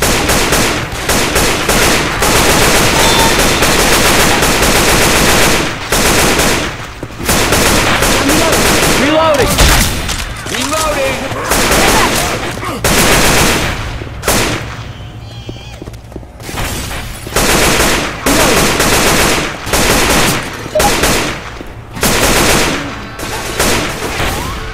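Heavy gunfire in the Left 4 Dead 2 zombie shooter, with loud rapid bursts and repeated shots running almost nonstop, broken by a few brief lulls, as players shout over the fighting.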